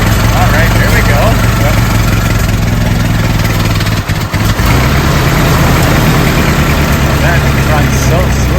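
An old vintage gas engine idles steadily and loudly at a steam-up show, a smooth low rumble that barely varies throughout, close by.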